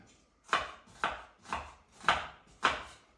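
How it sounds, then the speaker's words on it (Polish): A knife dicing a small red onion on a board, five crisp evenly spaced chops about half a second apart, close and clear with no talk. "Jedną taką niewielką czerwoną cebulkę kroję drobną kostkę."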